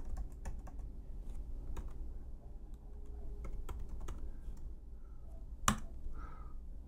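A password is typed on a computer keyboard at a sign-in screen, with a quick, uneven series of close, crisp key clicks running throughout and one louder tap near the end.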